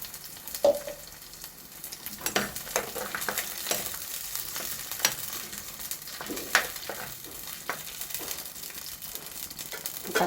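Ground tomato paste frying in a pan as the base for a fish curry, a close crackling sizzle with irregular spatters and stirring scrapes throughout, no voices.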